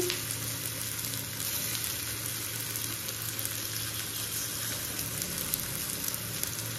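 Steady, dense sizzling of soy chunk koftas frying in hot oil, continuous and close, with no talking.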